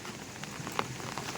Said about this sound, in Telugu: ఊటి నీరు ప్లస్ వర్షం నీరు రెండూ కలిసి వస్తున్నాయి.